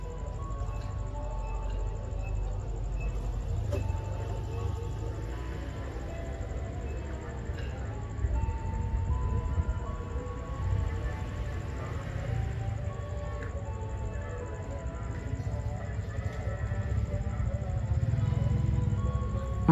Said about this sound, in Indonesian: jam 6 lebih 2 menit ada kereta yang akan masuk di stasiun Pasuruan